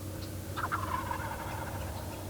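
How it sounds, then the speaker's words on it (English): A wild turkey gobbles once in the distance, a quick rattling call over a low outdoor hum. "There's a gobble."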